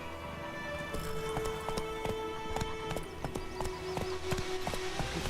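Roach the horse's hooves gallop in the Witcher 3 video game, a rapid rhythmic clip-clop of strikes over a continuous backdrop with a sustained musical tone, steady and close throughout.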